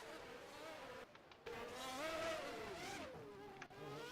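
Race car spinning out at Hockenheim in a racing video game: a close engine whine dips sharply, then revs back up while rising and sliding tones suggest tire squeal, with a brief gap in the engine noise.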